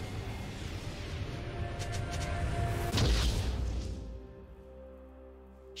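A turret collapsing in a League of Legends match gives a single deep boom with a crumbling rush that swells and fades within a few seconds, over steady game background noise.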